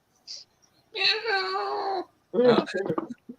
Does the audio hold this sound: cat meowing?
yes